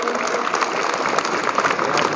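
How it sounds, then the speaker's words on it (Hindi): Hearty applause for class 7C at a school event in Kamptee, a dense, continuous crowd of clapping hands heard close and loud throughout the short stretch. "उनके लिए ज़ोरदार तालियां"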